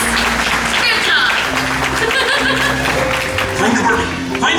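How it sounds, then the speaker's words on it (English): An audience claps at a bird show at Disney's Animal Kingdom. The applause is close and continuous, a presenter's voice and some chuckles carry over it, and a few bird-like chirps come through. "Another round of applause for Miles."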